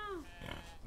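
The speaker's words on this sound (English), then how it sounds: "Yep, we got new piggies." Pigs on a farm in the Western game Outlaws of the Old West give a short grunting, snorting burst, quiet and close, with a brief tonal squeal at the start and a voice heard faintly alongside.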